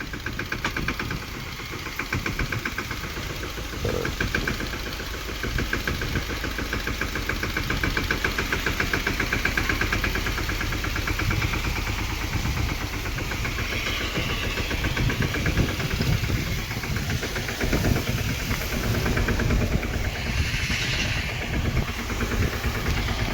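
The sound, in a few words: tractor engine running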